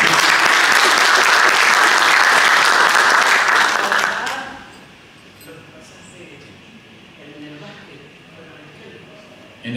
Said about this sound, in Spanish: El aplauso de ustedes